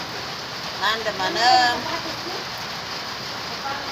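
Steady rain falls outdoors as an even, hissing wash with a brief voice rising over it midway, then continues unbroken.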